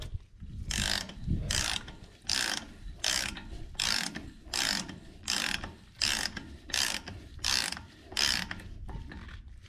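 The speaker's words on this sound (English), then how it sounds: "we're going to take our outer nut and we're going to drive this one on" Ratchet driving the outer nut onto a Dana 60 axle ball joint, a close series of about a dozen quick clicking bursts, each a short rattling pull followed by a brief pause, with no talking.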